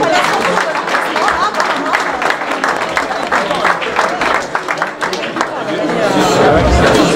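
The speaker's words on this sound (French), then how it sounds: "je vous demande d'applaudir Eugénie Barrier" Clapping mixes with crowd chatter at a trail running race, a busy outdoor hubbub where scattered applause runs beneath voices throughout.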